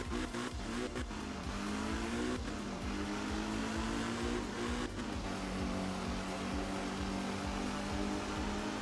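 A Renault Gordini rally car from the game Art of Rally runs on a tarmac stage, its engine droning steadily at high revs with a few quick gear changes and dips, loud and continuous with no talk.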